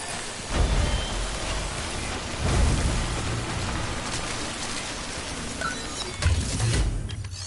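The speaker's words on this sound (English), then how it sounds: "Don't stay out in the rain any longer than you have to." Timefall rain in the video game Death Stranding falls as a steady hiss, with low thunder rumbles swelling three times. No one speaks over it.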